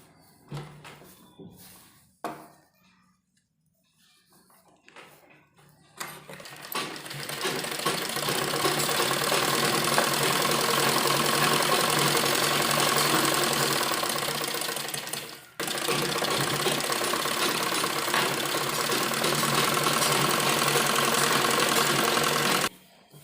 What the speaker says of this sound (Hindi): उसके बाद हम इसको सीधा करेंगे और सीधी तरफ एक दबी हुई सिलाई यहाँ पर लगाएंगे।